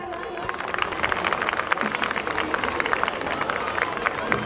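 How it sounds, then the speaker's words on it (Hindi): An audience at a school annual function applauds steadily, a dense wash of clapping with crowd noise filling the hall, moderately loud and continuous throughout. "Please put your hands together everyone."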